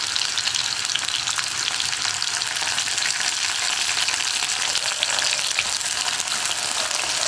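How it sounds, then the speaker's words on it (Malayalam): Sliced onions and a sprig of curry leaves sauté in hot oil in a pan for a vegetable mappas, giving a steady, even sizzle that holds at the same level throughout with no talking. "ഇനി ഉള്ളിയുടെ കൂടെ തന്നെ ഒരു തണ്ട് കറിവേപ്പിലയും കൂടി ചേർക്കാം."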